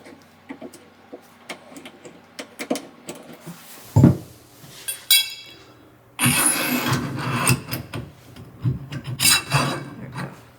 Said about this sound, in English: And we'll slide the handlebars through.